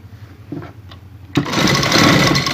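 A sewing machine runs a zigzag stitch on shalwar fabric, starting with soft handling clicks before bursting into a loud, continuous close whir that fills the rest of the moment.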